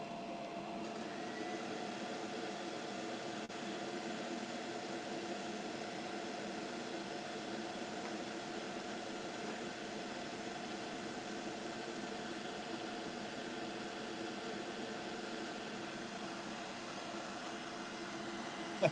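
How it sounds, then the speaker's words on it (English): A hair dryer blows steadily for nearly twenty seconds onto a freshly painted small fishing lure, a continuous even whooshing hum with no pauses. "I need to hit that with a hair dryer really quick."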